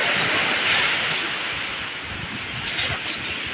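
Steady, broad roar of ocean surf washing onto the seashore, continuous and fairly loud, with wind buffeting the microphone and no voices.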